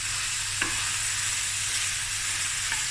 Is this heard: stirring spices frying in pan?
yes